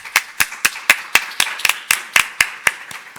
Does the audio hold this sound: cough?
no